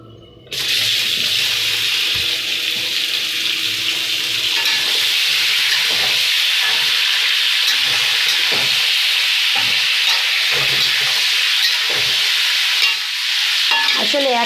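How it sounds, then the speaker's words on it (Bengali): Meat being stirred as it fries in a pan in a home kitchen, a loud steady sizzle with scraping and clinking of the spoon against the pan throughout, no talking. "সেই জন্য আমি গোশটা নেড়ে নিই"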